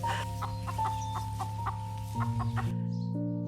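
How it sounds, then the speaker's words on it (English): Hens and roosters cluck in repeated short calls close by, over a steady sustained tonal hum. "The hens and the roosters, though, are not happy that these visitors have come so close to their"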